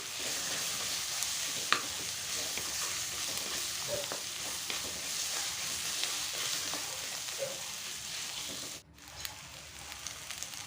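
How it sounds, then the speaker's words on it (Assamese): Ginger garlic paste fries in a pan with potatoes, a continuous close sizzle and crackle with occasional stirring clicks, dipping slightly quieter near the end, with no talking. "এতিয়া মই অকমান ভালদৰে ফ্ৰাই কৰিম। ইয়াৰ পিছত আলুখিনি দি দিম।"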